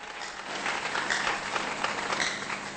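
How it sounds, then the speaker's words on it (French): Church congregation applauding in praise during a sermon, a steady wash of many hands clapping for nearly three seconds, fairly close and full, with no clear speech over it. "Tokoki kobeta maboko mpo na nkumu."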